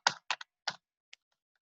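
A number is typed on a computer keyboard as input to a running C program, in four quick close key presses followed by a single fainter tap, with no voices.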